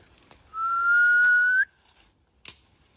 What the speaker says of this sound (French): Je siffle pour rappeler le chien